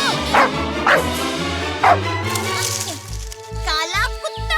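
A cartoon black dog barks and yips in a quick series of short, loud, close barks, with animated voices around it.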